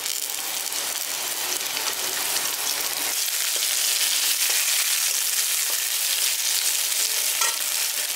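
Chopped beetroot frying in oil in a pan with ginger and green chilli, a dense, continuous hiss of sizzling with faint stirring scrapes throughout.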